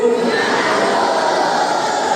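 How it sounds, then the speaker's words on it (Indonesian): Audience at a school literacy festival and regency anniversary event applauds and cheers, a dense steady wash of crowd noise lasting throughout without pause. "Tepuk tangan dong untuk teman-temannya"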